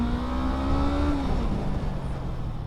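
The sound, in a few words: Honda CB500F motorcycle engine revving at 5000 rpm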